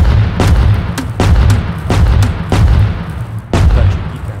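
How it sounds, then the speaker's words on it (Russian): Grenade launcher in the game Rust firing five sharp, booming shots at irregular intervals, loud and close over a low rumbling background. "Давайте попробуем прям быстро выстрелить."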